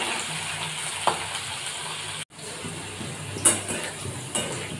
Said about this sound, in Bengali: এই যে আলুগুলো আমি তেলের উপর ফেলে দিলাম, আলুগুলো কষতে লাগলাম।